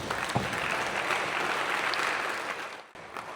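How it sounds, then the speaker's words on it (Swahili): A school-related government event audience bursts into sustained applause, a dense wash of many hands clapping that continues steadily before briefly dropping out near the end and resuming. "ningetegemea nipate makofi makubwa kwa serikali yenu"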